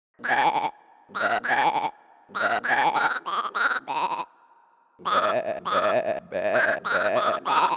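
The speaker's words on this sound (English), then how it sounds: "this is just a flock of sheep corralled into a wooden frame" Sheep corralled in a wooden frame bleat in quick, rhythmic bursts, one after another in a tune-like sequence, loud and close with brief pauses between phrases.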